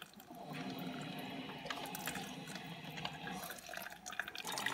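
Water drips and trickles inside a CompactClass filter coffee machine as it heats and boils, a steady soft liquid patter with small irregular drops, fairly quiet and close.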